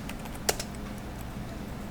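Single sharp computer keyboard keystroke over a low steady room hum during V-Ray rendering work, with soft faint clicks around it.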